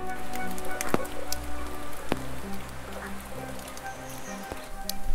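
Rain falls steadily at Matsubagawa forest campground in Kochi, a soft, even patter with a few sharper drops striking nearby surfaces, faint and continuous with no talking.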